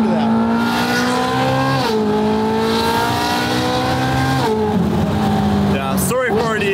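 A 2013 Ferrari 458 GT3 widebody race car engine howls loud and close, rising through repeated high-pitched revs with quick shifts between them and a sharp downshift blip near the end, with voices faintly beneath.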